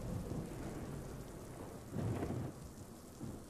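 Heavy rain pours in Death Stranding, a dense, continuous wash with low thunder rumbles swelling twice, softly and at a distance.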